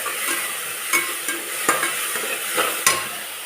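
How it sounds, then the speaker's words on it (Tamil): Ginger garlic paste sautéing in a hot pan, with a steady sizzle and several sharp scrapes and knocks of a spoon stirring the paste at irregular intervals. "இஞ்சி பூண்டு பேஸ்ட்டு வதக்கியாச்சு."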